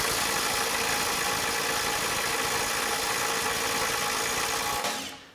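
A cordless impact driver hammers steadily on a stubborn bolt for several seconds, a dense continuous rattling buzz, up close, before cutting off abruptly.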